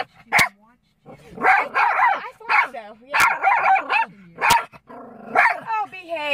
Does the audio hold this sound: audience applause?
no